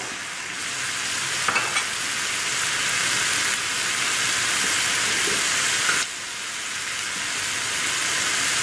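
Samosa filling with lemon juice and soya sauce frying in a pan while being stirred, a steady bright sizzle with occasional scraping strokes of the spoon, close and continuous.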